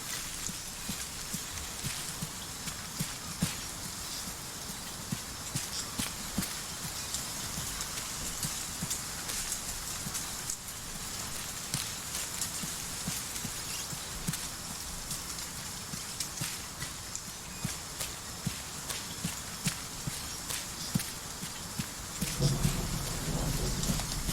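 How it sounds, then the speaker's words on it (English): Steady rain and thunderstorm weather in the military game ARMA 3, a constant dense patter of rain with low rolling thunder rumbling underneath, continuous throughout with no talk. "Very stormy."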